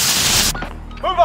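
A burst of dense rapid gunfire in the Modern Warfare video game, loud for about half a second before cutting off, followed by a short voice.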